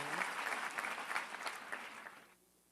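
An indoor audience claps together in a dense, steady burst of applause that carries on for a couple of seconds before fading out quickly at the end.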